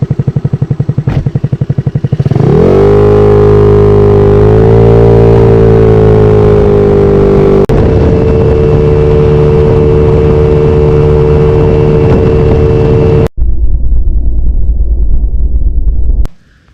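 A GY6 150 scooter engine fitted with a Tiada T100 mid-range cam and a 28mm PWK flat-slide carburetor idles roughly, then revs up loud and holds a steady high whine before dropping back and cutting off, with no talk.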